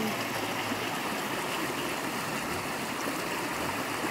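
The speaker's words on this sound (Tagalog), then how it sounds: "Sarap ng tunog ng batis." Water rushes and burbles steadily over rocks in a mountain stream on Kinapuin mountain, swollen after rain, a continuous close, full wash with no voices.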